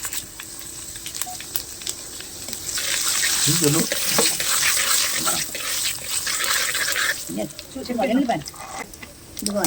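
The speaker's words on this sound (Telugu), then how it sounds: "ఇదిగోండి తాలింపు ఎండిమిరపకాయలు పచ్చనపప్పు జీలకర్ర ఆవాలు వేస్తా తాలింపు" Dry red chillies, chana dal, cumin and mustard seeds fry in hot oil as a tempering for a broad bean and raw mango pickle; a bright sizzle swells after a few seconds and persists, with a voice talking over it and occasional clinks.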